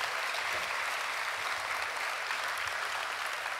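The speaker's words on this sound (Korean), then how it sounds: "우리 미디어 팀에게 격려의 박수 한번 부탁드립니다." A church congregation at an afternoon service claps for several seconds in an even, sustained round of applause with no speech.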